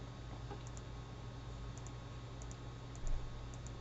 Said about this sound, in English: we click here